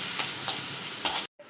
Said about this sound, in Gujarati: કેપ્સિકમ, મરચાં અને તેલ સાથે બરાબર મિક્સ કરી લેવાનું।